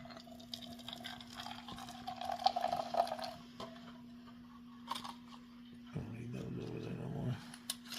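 Water poured from a tin can tea kettle into a cup, a brief gurgling trickle followed later by a fuller filling stream, faint over a steady low hum with small handling knocks.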